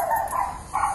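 Dogs barking in a garden: two quick yapping barks a short gap apart, fairly close and clear, with no talk over them.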